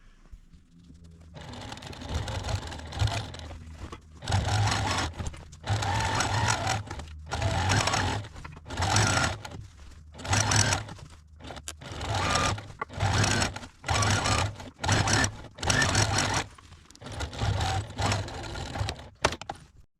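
A sewing machine runs a seam along the side of a garment bag in repeated bursts, each a close, rapid mechanical whir a second or two long, separated by short pauses.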